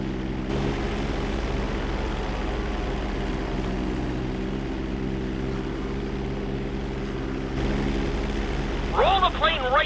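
Propeller plane engine drones steadily while the aircraft rolls upside down in Grand Theft Auto V, a loud continuous hum with a short voice chirp near the end.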